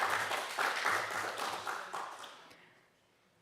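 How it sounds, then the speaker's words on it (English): Applause from a conference audience at an international music conference in Bydgoszcz, a brisk burst of many people clapping that thins out and fades to quiet after about two and a half seconds. "let's have a big applause"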